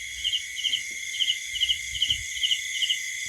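Crickets chirp at night in rice fields, a steady high trill with regular paired pulses repeating several times a second, close and unbroken, with faint low rustling beneath and no voices.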